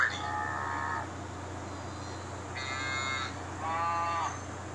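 A cow-mooing phone ringtone plays three drawn-out, tonal moo calls in a row over a steady low electrical hum.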